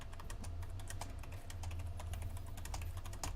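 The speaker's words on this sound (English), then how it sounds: "Sorry for my typing." Fast, aggressive typing on a computer keyboard rattles out as a dense, uneven stream of close key clicks over a low background hum.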